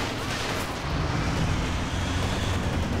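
Panzerwerfer rocket artillery in Company of Heroes 2 pounds the battlefield, a dense, continuous roar of overlapping explosions and rumbling debris at steady loudness throughout.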